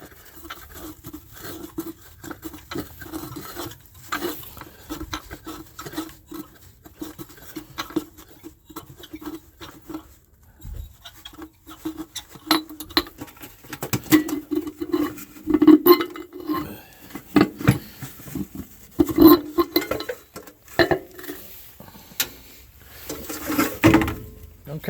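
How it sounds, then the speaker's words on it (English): Air cleaner being pulled off the engine of a 1970 Chevy C10 pickup, with scattered metallic clinks, taps and scraping handling noises close by, irregular and moderately loud, with no talking. "Take this air cleaner off this fine piece of machinery."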